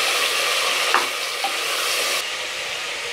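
Chopped small tomatoes go into hot oil for a spicy country chicken curry, giving a loud, close, steady sizzle with brief stirring scrapes, then the hiss drops slightly partway through.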